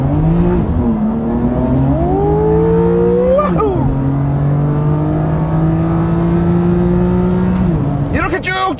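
A BMW M2 engine pulls up from about 1000 RPM on a public road, a loud close-up rising engine note that climbs steadily, dips and holds, then surges again near the end, with a voice talking over it.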